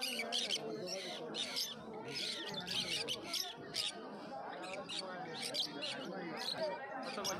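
Pineapple conure parrots squawk in repeated harsh bursts at a pet market in Uluberia, their cries mixed with other birds and steady nearby talk throughout.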